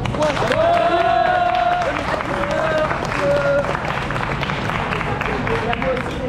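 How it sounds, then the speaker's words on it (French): Crowd applause with some cheering at a karting event's medal ceremony, steady, dense clapping that fills the whole stretch, with a few brief tonal cries rising over the hand noise. "Tout le monde, tu veux applaudir Mister Coaster?"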